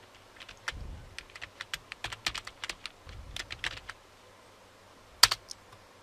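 Someone types on a computer keyboard at close range, with uneven bursts of crisp keystrokes, short pauses between them and a louder final key press.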